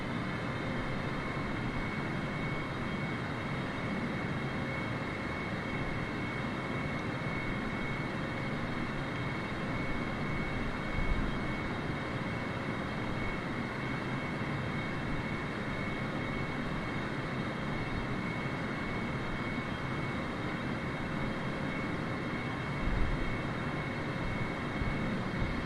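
Steady, droning engine of a big, slow airplane in a flight simulator game, a continuous loud hum that holds level for the whole stretch with no talking.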